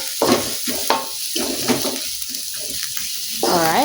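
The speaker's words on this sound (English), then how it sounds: "saute this aromatics until it becomes fragrant." Aromatics for an eggplant curry sauteing in a pan, a steady close sizzle with stirring clatter and scraping throughout, louder bursts near the end.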